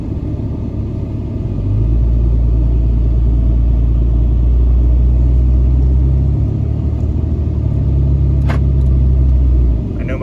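A diesel pickup truck with its DEF and EGR systems deleted cruises down the road, a steady loud low engine drone and road rumble heard from inside the cab, swelling slightly after a couple of seconds and holding level.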